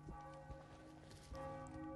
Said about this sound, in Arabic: سمعنا الجرس عن يدق حزن